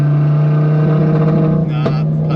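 A 1400 bhp Audi TT RS engine idles loudly and roughly with a misfire, its steady drone broken by a brief stumble near the end, while voices talk over it.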